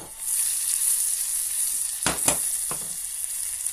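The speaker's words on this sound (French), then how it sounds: "Là le beurre il est en train de fondre avec le chocolat." Butter melts with chocolate in a hot pan for a children's chocolate cake, hissing in a steady close sizzle broken by a few quick scraping stirs.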